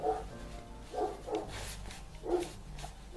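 A dog barks outdoors, a few separate woofs spaced about a second apart, moderately distant and fairly quiet, with faint room noise between them.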